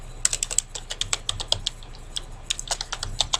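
Brisk typing on a computer keyboard during a PowerPoint lesson, with clear individual keystrokes in an irregular stream and a short pause midway; close and alone over a low background hum.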